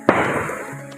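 A single sharp firecracker bang pops near a bamboo grove at the Antrokan waterfall in Manggisan, Tanggul, Jember, then fades into a steady wash of rushing water.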